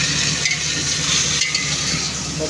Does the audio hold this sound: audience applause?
no